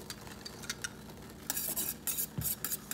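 Tamarind sauce with a little minced garlic cooking in a pot, giving a quiet bubbling sizzle with scattered stirring scrapes, louder bursts of hiss breaking in toward the end.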